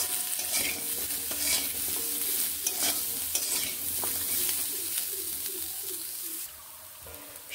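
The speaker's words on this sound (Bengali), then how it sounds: "সজনে ডাঁটাগুলোকে ভেজে নিচ্ছি" Moringa drumstick pieces with turmeric frying in a pan, a continuous hiss of hot oil under frequent spatula scrapes and clinks, with a pigeon cooing faintly in the background.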